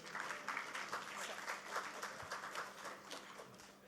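A small conference audience at a finance event claps to welcome a speaker, faint scattered hand claps with a loose uneven rhythm, heard at low level from a distance.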